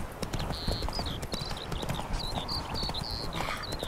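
Rhythmic clip-clopping of horse hooves at a steady trot in The Witcher 3: Wild Hunt, fairly close, with a few faint high chirping tones over the footfalls.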